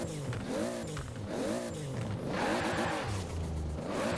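A 1990 Nissan Pulsar GTI-R engine in Forza Horizon 4 revs up and down in rising and falling sweeps, steady and fairly close, with no talking over it.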